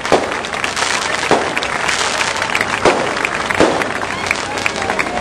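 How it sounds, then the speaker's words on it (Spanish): Dense applause from a crowd at a patronal festival in San Carlos, Pasaquina, greeting the new queen, steady and loud, with a few sharper claps or pops standing out and voices mixed underneath. "Démosle un fuerte aplauso"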